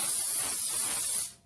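Cooking spray hisses into a 9x9 cake pan, one continuous close burst of about a second before cutting off.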